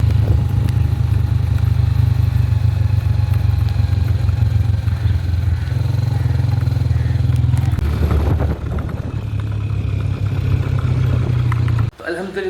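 A motorcycle engine runs loud and close during tuning, holding a steady deep drone that shifts and thins after about eight seconds before cutting off near the end.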